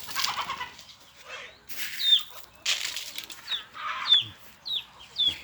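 Free-range village chickens cluck in short repeated bursts at close range, with soft scratching and rustling between calls and a brief flutter of wings.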